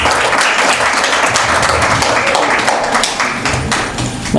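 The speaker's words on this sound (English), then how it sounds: "I want to ask you to give yourselves a round of applause." At a retirement celebration at Alleyne School in Barbados, an audience applauds loudly and steadily, dense clapping with a few louder close claps that holds for several seconds and never drops off.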